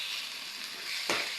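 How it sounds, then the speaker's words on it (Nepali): Ground spice masala sizzles and fries in a hot pan while making gawa, a steady hissing crackle with a brief louder burst of stirring near the end, no talk. "पिसेको मैले मसला हालेँ। त्यसलाई पनि मैले रातो हुने हेरेर फ्राई गरेँ।"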